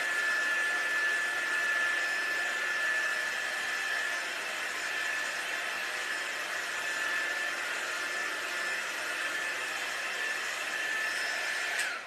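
A hair dryer blows steadily on laser-cut wood kit pieces, a constant loud whooshing hum with a faint whine that holds for several seconds before cutting off at the end.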